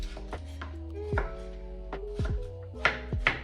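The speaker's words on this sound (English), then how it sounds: "it's so fun to chop" A knife chops watermelon on a board in a quick run of sharp close thuds, about nine strokes at uneven spacing over a low background hum.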